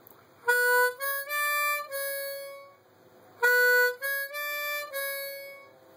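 Harmonica playing a short phrase for a solo, a 4-hole draw stepping up to 5-hole blow, draw and blow, played twice as clean sustained reedy tones with brief gaps, close and alone.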